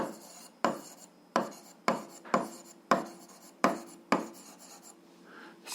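Pen writing out an algebra exercise solution on paper, a series of about eight short scratchy strokes in an uneven rhythm, close and quiet with no talk.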